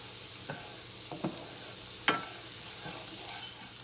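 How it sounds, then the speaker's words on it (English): Garlic sautés in a skillet with butter and shallots, giving a steady soft sizzle broken by a few sharp stirring scrapes and clinks of a utensil against the pan. "So you want to add your garlic, and again, you just want to saute that"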